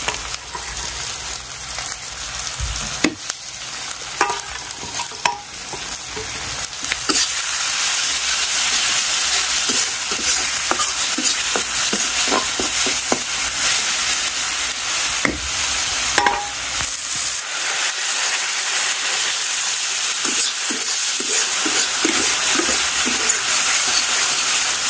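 A spice paste of turmeric, chili and coriander fries with onions in a pan, giving a steady, loud sizzle with spoon scrapes and stirring clatter throughout, alone with no voices.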